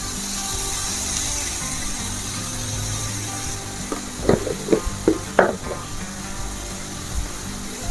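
Potatoes and onions fry in a pan while a spatula scrapes and stirs, giving several short clattering bursts midway over a steady background hiss.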